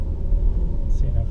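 A car passes close by on a road during a BMX club ride in Colombia, giving a loud, steady low rumble that fills the whole moment, with a faint voice over it.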